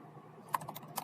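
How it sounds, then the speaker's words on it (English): Several soft, quick keystrokes clack on a computer keyboard close by, irregular and isolated over a low steady hum. "in rereading and typing this"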